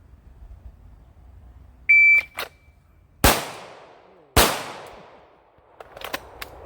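A shot-timer beep, then two sharp, loud handgun shots about a second apart at an outdoor shooting range with targets at 25 and 40 yards, followed by faint ringing and quiet clicks.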